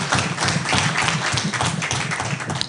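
Audience at a legacy and contribution conference for Dr. Paul Kawanga Ssemogerere applauding, a dense sustained patter of many hands clapping throughout the hall with no speech.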